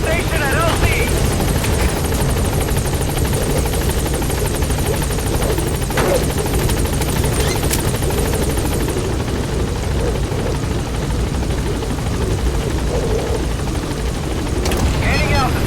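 A helicopter in Metal Gear Solid V arriving at a landing zone, its loud continuous rotor thrum and turbine whine filling the scene close by, with a radio voice speaking over it.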